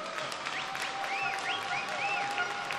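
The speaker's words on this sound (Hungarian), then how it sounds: "Egy nagy tapsot neki" Crowd applause in the arena at a 2023 all-star game, a sustained even roar of clapping with faint whistling tones riding above it.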